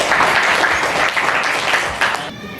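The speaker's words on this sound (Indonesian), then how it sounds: "Oke, tepuk tangan dong." A classroom of students applauds together in one dense burst of clapping that lasts a couple of seconds, then drops off abruptly.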